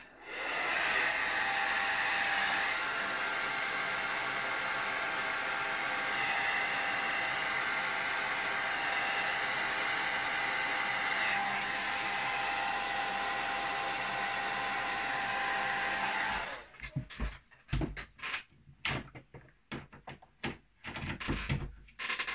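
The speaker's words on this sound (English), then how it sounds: "I'm going to just use the hairdryer a second." A hair dryer blows a loud, steady whoosh for about sixteen seconds while drying a watercolour winter landscape painting, then cuts off, followed by scattered knocks and handling sounds.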